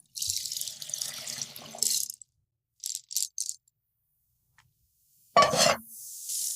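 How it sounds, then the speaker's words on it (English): Water pours from a kitchen sink as pasta is drained, a splashing rush for about two seconds, then a few short clattering bursts and a final loud burst of pouring water, all close and with no talking. "I'm draining the pasta."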